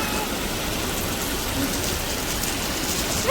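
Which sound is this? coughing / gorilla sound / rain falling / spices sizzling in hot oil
rain falling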